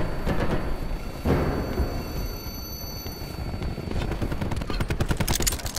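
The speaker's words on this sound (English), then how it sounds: "Cluster grenade. Enjoy." A cluster grenade goes off in the shooter Black Ops, a dense, continuous crackle of rapid overlapping blasts rolling on for several seconds amid loud game gunfire and mechanical rumble.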